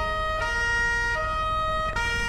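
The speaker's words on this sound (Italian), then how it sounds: "Leviamo un attimo le sirene." Police car sirens in GTA 5, a loud electronic wail shifting between tones in repeating cycles, close and continuous over a low engine rumble.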